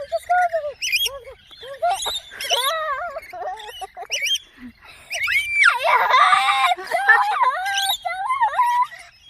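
A bird squawks and screeches in loud, repeated harsh calls while being held in someone's hands, with people talking anxiously close by.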